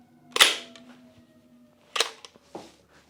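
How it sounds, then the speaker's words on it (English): Bolt of an M3A1 Grease Gun submachine gun slamming forward as the trigger is pulled, feeding a dummy round: a sharp metallic clack near 0.4 s, followed by a second clack and smaller rattles around 2–2.6 s. "all you do is pull the trigger, and that drops the bolt and feeds the round"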